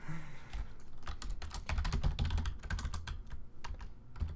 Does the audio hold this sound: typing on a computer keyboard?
yes